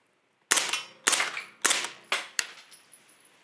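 A suppressed firearm fires subsonic ammunition indoors in a private bay, five sharp cracks in irregular succession, each decaying quickly; the shots are loud and close, with no talk.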